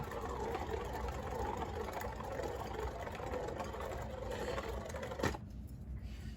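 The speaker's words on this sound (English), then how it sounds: "This is how the mini bay looks like when it's spinning." A hand-spun mini Beyblade spinning top whirs steadily and closely, then gives a sharp click before the sound drops away.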